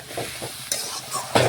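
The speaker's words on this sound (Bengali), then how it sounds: "এখন ভালোভাবে নাড়াচাড়া করে নিচ্ছি" Vegetables with chopped tomato and a splash of water stirred in a frying pan for a bottle gourd stem dish: a close, steady sizzle with a few brisk scraping strokes over about a second and a half.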